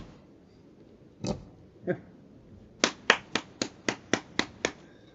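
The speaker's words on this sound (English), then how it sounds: "I just have to clap applause for things like that." A single person claps by hand, first two isolated claps, then a quick run of about eight crisp, evenly spaced claps, close and dry against a quiet room.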